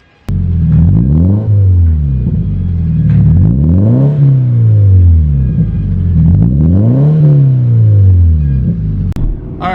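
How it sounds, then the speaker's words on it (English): A Scion FRS fitted with an Invidia N1 full catback exhaust and blue titanium tips revs loudly and close, with several repeated rises and falls in engine pitch over a deep, throaty rumble. "I have went with the Invidia N1 Exhaust full catback system for the FRS with the blue titanium tips"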